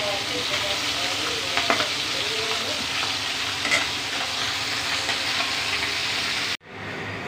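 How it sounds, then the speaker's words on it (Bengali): Pabda fish sizzling and spitting in hot oil in a kadai (wok), a steady crackling fry with a few sharper pops, close and loud, before cutting off abruptly near the end. "আমার এটা খুব সুন্দর মাছ ভাজা হয়"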